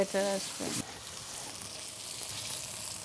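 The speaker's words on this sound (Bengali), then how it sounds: "এটা জাস্ট আমরা সিয়ার করব, মাংসের যে জুসটা আছে জুসটা যেন লক হয়ে যায়।" Lamb pieces searing in a hot pan with onion and garlic give a steady, close sizzle and frying crackle, with a brief stirring scrape near the start before the hiss settles into an even background.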